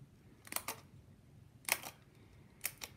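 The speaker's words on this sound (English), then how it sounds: "And I'm just hole punching a circle." A hole punch cuts circles from craft material for a bee finger puppet, giving three short, crisp clicking snaps spaced about a second apart, close and fairly quiet over a faint background.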